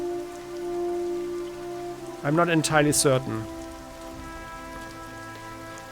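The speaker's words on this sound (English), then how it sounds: "in the rain" Steady rain patters across the battlefield in the naval strategy game Strategic Mind: The Pacific, set at Guadalcanal, a constant soft hiss that runs throughout while someone speaks briefly over it.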